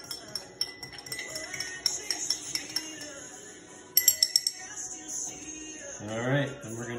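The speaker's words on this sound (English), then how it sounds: "Stir that a little bit to dissolve it." A metal bar spoon stirs superfine sugar in a glass, giving a steady series of light, close clinks and taps against the glass that grow briefly louder toward the end.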